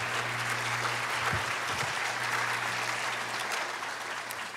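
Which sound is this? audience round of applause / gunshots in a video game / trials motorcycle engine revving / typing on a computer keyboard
audience round of applause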